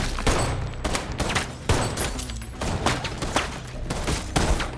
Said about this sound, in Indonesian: seketika itu juga langsung membunuh Raymond hingga aksi baku tembak terjadi